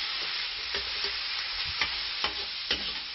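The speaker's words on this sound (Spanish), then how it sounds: "Los sofreímos también repartiendo bien." Sliced squid rings frying in a pan for black rice paella, with a steady close sizzle and a few soft scrapes of stirring over it; no voices.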